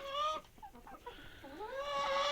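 Backyard chickens and roosters, including lean laying-breed cocks, cluck and call near and clear in a few rising and falling bursts, with no talking.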